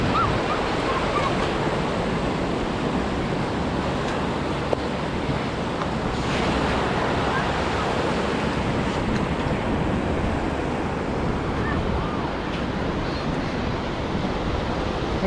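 Surf rolls in on Daytona Beach, Florida, under gusting wind, a constant loud wash of waves with microphone wind rumble and no speech.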